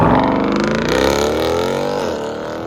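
Jeep Grand Cherokee SRT with a 6.4L HEMI V8 and aftermarket exhaust, a loud, deep burbling idle with a slight revving swell, heard close and without talk.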